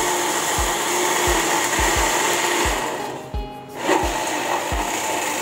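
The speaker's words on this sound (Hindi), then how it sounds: "अब हम इसको अच्छी तरह से कर लेंगे ग्राइंड। अच्छी तरह से इसको ब्लेंड करना है हमने।" A blender grinds fresh strawberries into a thick paste for a strawberry mojito, a loud steady whirring drone that holds the whole time, with a brief dip and surge in the motor near the middle and no talking.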